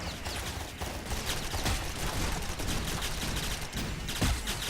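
Dense, repeated gunshots in the online shooter GunZ 2: The Second Duel rattle almost without pause, loud and close, with sharp individual cracks standing out from a continuous barrage of firing.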